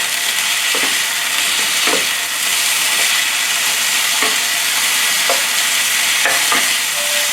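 Food stir-fried with oyster sauce and soy sauce in a skillet, a loud continuous hiss and sizzle with light periodic scraping strokes as it is mixed.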